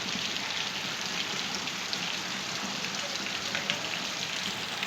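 Heavy monsoon rain pours down steadily near a house, a dense, continuous hiss of drops on surfaces with no pauses or voices.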